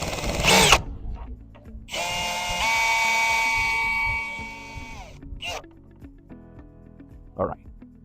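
A power drill bores into a DIY bracket for Novsight X Series 7-inch pod lights, giving one high, whining burst of about three seconds plus a couple of short buzzes, with a voice talking around it.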